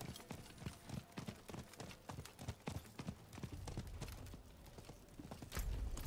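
Horse hooves gallop in Diablo 4, a steady fast clip-clop rhythm of many close, crisp hoofbeats, fairly quiet overall with a heavier thump near the end.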